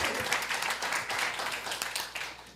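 A community meeting audience breaks into steady, dense applause that continues throughout, fairly close and even in level.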